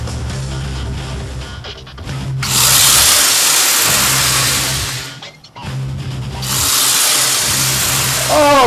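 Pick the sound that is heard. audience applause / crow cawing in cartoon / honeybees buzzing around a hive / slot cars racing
slot cars racing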